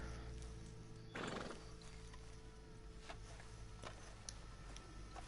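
A horse in the Red Dead Online video game gives a single short whinny amid clopping hooves, over steady ambient game background sound.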